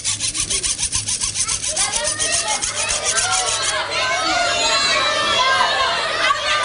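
A foley artist imitates a wood saw and then a metal hacksaw, producing steady rhythmic rasping strokes, loud and close, with murmuring voices from an audience underneath.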